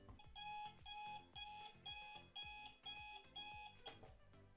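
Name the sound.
alarm clock ringing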